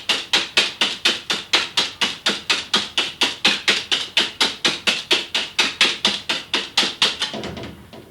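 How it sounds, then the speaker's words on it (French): A whisk beats warm génoise sponge batter in a bowl with fast, evenly spaced clacking strokes, about four a second, loud and close with no talk. The strokes slow and fade near the end. "je continue à battre énergiquement jusqu'à ce qu'elle soit bien montée"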